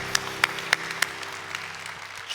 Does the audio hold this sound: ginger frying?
no